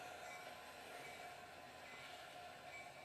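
Steady rumbling roar of a Metra F40PH diesel locomotive train passing, a continuous broadband wash with no breaks throughout.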